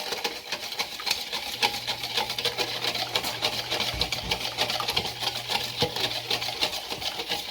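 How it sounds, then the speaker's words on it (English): Honey is whisked in a bowl while making granola, giving rapid, regular scraping strokes against the bowl, close and steady throughout, without any speech. "when whisking, we're adding energy, which is going to start to soften or kind of melt down the honey just a little bit"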